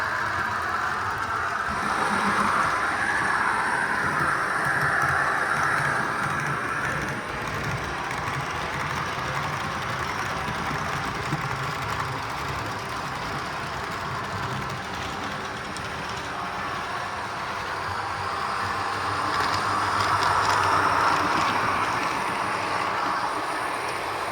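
A small HO-scale model SD99 locomotive hums and whirs continuously along the track of a large layout, a soft steady drone that swells slightly at the start and end.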